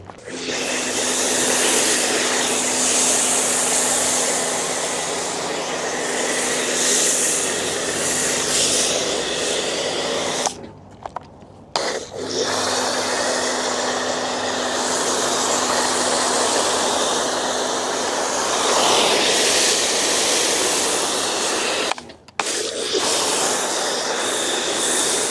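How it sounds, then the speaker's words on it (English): Foam cannon spraying thick foam onto a ceramic coated car, a loud steady close hiss of pressurised spray that runs continuously, broken by two brief pauses. "So we're gonna go ahead and foam this up, and we're gonna let it dwell for about 3 minutes."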